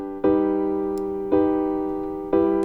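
Three sustained synth tones, each starting with a soft attack about a second apart, given a dull, worn, vintage lo-fi colour by the Wolf compressor plugin, with a faint hiss and slow decay between notes.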